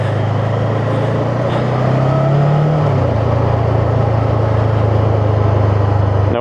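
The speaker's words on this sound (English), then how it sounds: "deep engine tone from that engine." A Voge 500AC motorcycle runs on a country lane with a deep, steady engine drone that swells briefly as it pulls, then settles into a constant loud rumble with road and wind noise and no talk.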